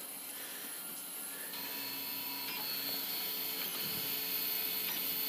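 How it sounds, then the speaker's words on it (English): A 3D printer running five-color printing gives off a constant whirring hum with faint, shifting motor tones and small clicks, steady and fairly quiet throughout. "We have 5 color printing going on right now."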